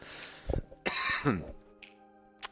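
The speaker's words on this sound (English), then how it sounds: "Unmuted myself just to cough" A person coughs and clears their throat close to the microphone, a few rough bursts followed by quiet, with a faint click at the end.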